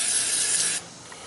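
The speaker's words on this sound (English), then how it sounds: "Okay, that rusty bolt, I'm going to spray a little WD-40 on it there." WD-40 aerosol sprayed onto a rusty bolt on a 2007 Saab 9-3, one steady hissing burst lasting most of a second, then cutting off to quiet background.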